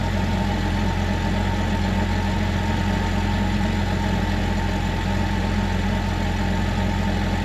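A car engine idles close by, a loud, steady low rumble with even vibration and no change in pace for the whole stretch.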